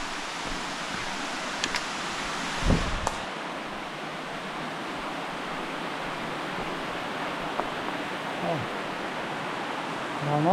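A stream flows through a karst limestone cave near Kozina, a constant broad rushing wash of water with a couple of brief knocks or footsteps early on.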